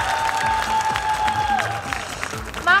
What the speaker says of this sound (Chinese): 再掌声鼓励一下。